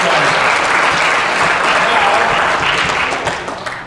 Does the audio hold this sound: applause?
yes